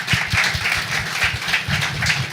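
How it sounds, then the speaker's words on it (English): A steady wash of clapping hands fills the hall at a tech hub launch event, continuous and moderately loud, with no voices over it. "Can we get a round of applause?"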